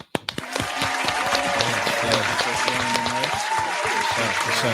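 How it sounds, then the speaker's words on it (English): An audience gives a big round of applause for a woman named Ashley: dense, sustained clapping that swells after a few sharp opening claps and runs steadily throughout, with voices and tonal sounds mixed in beneath. "give a huge round of applause for Ashley"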